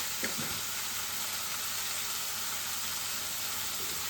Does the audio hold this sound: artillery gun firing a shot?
no